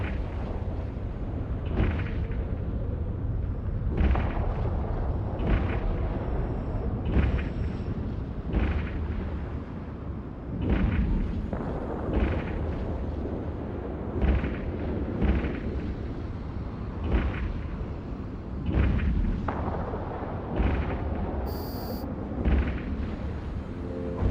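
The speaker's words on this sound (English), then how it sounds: "Now it's time to engage your weapons" Ship weapons fire in EVE Online at a drifter seeker, sounding as a series of deep, booming blasts that repeat every second or two over a constant low rumble, with no talk heard.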